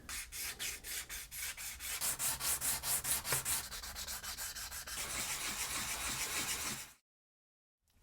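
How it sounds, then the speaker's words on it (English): Hand sanding rounds the edges of a small replacement button for a modern Marantz audio unit, heard as steady rhythmic rubbing strokes, close and fairly loud, stopping abruptly near the end with no talking. "with a bit of sanding, obviously I've got to round the edges"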